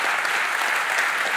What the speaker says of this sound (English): let's give an applause for Professor McGrath